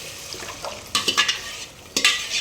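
Cooked tomato masala stirred into a pot for Guntur dalcha, with a few sharp spoon-on-metal scrapes and clanks over a soft background sizzle, close and fairly loud.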